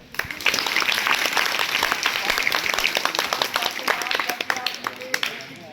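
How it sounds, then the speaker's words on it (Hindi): A school audience of students claps for themselves, a burst of many hands starting together, holding steady for several seconds, then thinning out toward the end, with some voices mixed in. "सब सीधे बैठो और अपने लिए ताली बजाओ।"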